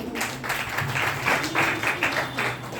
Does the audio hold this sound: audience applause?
yes